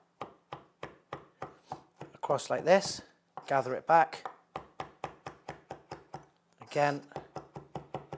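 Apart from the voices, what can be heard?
knife chopping vegetables on a board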